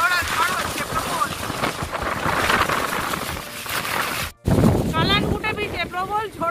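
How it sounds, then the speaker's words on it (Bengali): Strong stormy wind buffets the microphone at Calangute beach in Goa during a rainstorm, a constant loud roar with surf behind it and a brief dropout midway, and voices can be heard through it. "কালানগুটে বিচে প্রবল ঝোড়ো হাওয়ার মধ্যে আমরা"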